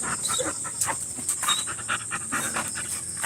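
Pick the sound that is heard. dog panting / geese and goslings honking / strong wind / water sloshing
dog panting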